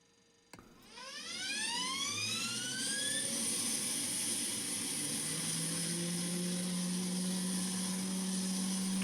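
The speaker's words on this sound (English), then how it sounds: "Start engine 1." A simulated F-15 jet engine starts up in Microsoft Flight Simulator: a sharp click, then rising whining tones that spool up into a steady loud turbine roar and hum held to the end, with no talking.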